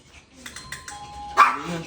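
A doorbell chimes clearly, a two-tone electronic ding-dong, loud and close, followed by a brief burst of noise.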